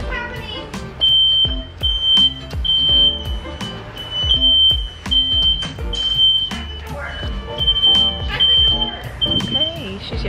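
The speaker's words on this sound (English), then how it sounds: "We've turned on the fire alarm because my sister forgot to turn the fan on." A household smoke alarm shrills in a continuous run of high, piercing beeps during Thanksgiving at home, while people talk and move about over it.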